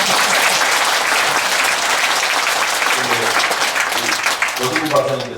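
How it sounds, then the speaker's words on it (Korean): A studio audience on a Korean year-end talk broadcast claps loudly and steadily, with talk mixed in as the applause thins toward the end. "박수 좀 드리죠."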